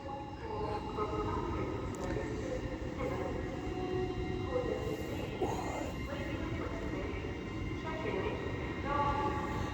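An LNER Azuma train departs York station bound for Edinburgh Waverley with a steady low rumble and a sustained tonal whine, plus faint squeals, heard from the platform at moderate distance.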